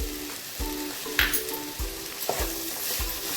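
Carrot and capsicum are stir-fried in a pan for masala pasta, making a continuous sizzle with a regular, rhythmic scrape of the spatula roughly twice a second, close and clear.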